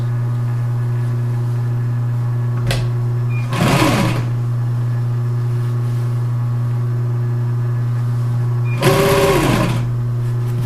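Sewing machine stitching fabric on a wing chair reupholstery job: a steady motor hum with two short bursts of rapid mechanical stitching chatter, close and loud, no speech.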